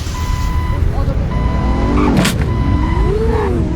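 Jeep driving in the Greenville video game: a steady synthetic engine drone with tonal whines and a short burst of noise midway, while a person talks over it.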